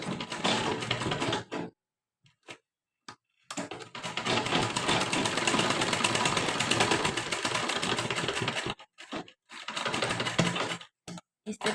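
A sewing machine stitches a lehenga blouse in several bursts of rapid, rattling running, the longest lasting several seconds, separated by short silent pauses.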